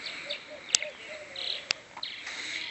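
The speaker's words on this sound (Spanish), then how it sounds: "no sé si escuchan ustedes los pajaritos cómo están cantando" Faint, high chirps and tweets from small birds singing outdoors, with a couple of sharp clicks in between.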